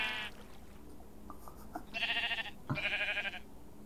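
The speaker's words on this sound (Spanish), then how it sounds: "Ovejas ataquen." Sheep bleating in a video game, several nasal wavering bleats, two long loud calls toward the end after a short one at the start, with faint clicks in between.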